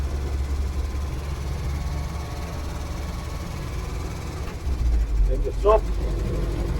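A milk float pulls along in third gear with a steady, low motor drone and road rumble, loud and close, while someone talks over it.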